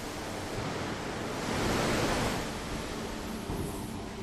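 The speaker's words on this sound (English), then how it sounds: "In order to cleanse the surface, water is sprayed at high pressure," High-pressure water jets at 160 bar blast mill scale off hot steel before rolling in a steel mill, a loud, dense, steady hiss that swells slightly in the middle, with no voices.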